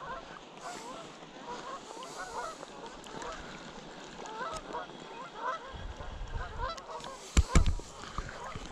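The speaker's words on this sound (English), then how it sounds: "geese are going absolutely bonkers." Geese at a reservoir honk continuously in a noisy chorus, with overlapping calls from a nearby flock and a few louder thumps and splashes toward the end.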